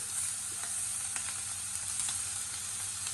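Entrecote steak sears on a hot grill or pan, giving a steady, even sizzle with faint crackles and pops, heard alone with no talk.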